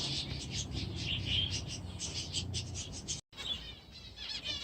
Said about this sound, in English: here's a quick look at the finches